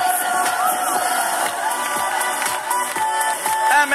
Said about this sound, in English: One big applause for the new Champions League.